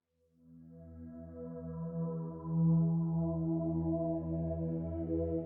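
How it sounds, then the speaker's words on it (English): A soft ambient pad synth made in Vital, with chorus and EQ, swells in slowly and holds as a warm, sustained chord that grows slightly louder midway, smooth and alone without talk. "I've got these synth parts that are going to be your sort of ambient texture before going into the song"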